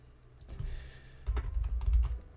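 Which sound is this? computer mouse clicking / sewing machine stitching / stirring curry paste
computer mouse clicking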